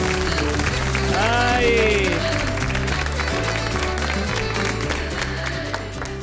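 Studio audience on a Spanish afternoon TV show applauding steadily and loudly, with a host's voice and a brief exclamation over the clapping.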